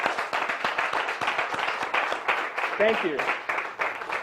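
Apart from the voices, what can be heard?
audience applause for presenters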